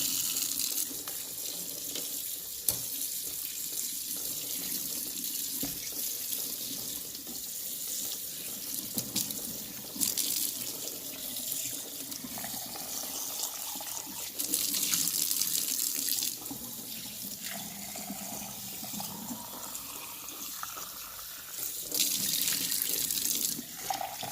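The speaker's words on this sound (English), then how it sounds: "Let's go ahead and clean this in cool water." A kitchen tap runs cool water steadily for a long stretch over a turkey being rinsed, water splashing and shifting in tone, with no talking.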